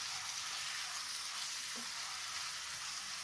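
Chopped tomatoes sizzle in hot oil in a pan for a spicy South Indian chicken curry, a steady bright hiss with a faint stirring scrape partway through.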